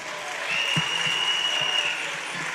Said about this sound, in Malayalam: ഇവർക്ക് വേണ്ടി ഒരു വലിയ കൈയടി കൊടുക്കണം പ്ലീസ്.